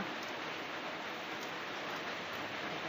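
Steady rain falling outdoors at a home in rural Isan, Thailand, a dense continuous hiss of drops on surfaces, moderately loud and unbroken throughout, with no voices.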